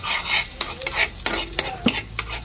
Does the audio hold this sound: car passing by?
no